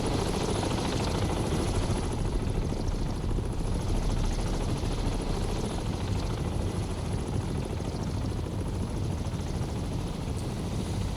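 Helicopter in the naval combat game Cold Waters, returning to base: a steady, dense rotor and engine drone holding evenly throughout, loud and close with no gaps.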